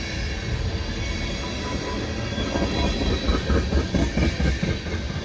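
A Canadian Pacific westbound freight train rumbles past close by at a snowy commuter station in winter, its wheels clattering rhythmically over the rails with a steady roar and faint metallic squeal.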